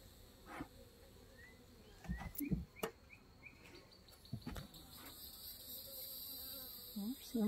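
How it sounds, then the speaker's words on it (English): A steady swarm of honeybees from a starving hive hums continuously close by, with occasional soft knocks and clicks breaking through the buzzing. "So we got a bunch of bees roaming around."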